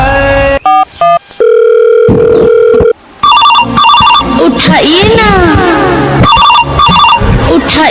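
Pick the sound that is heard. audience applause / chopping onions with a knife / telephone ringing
telephone ringing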